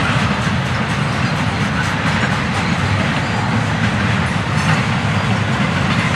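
FEC freight train 109 rolls past a front door at restricted speed, a loud, close, continuous rumble of railcars with rhythmic clickety-clack from the wheels and no talking.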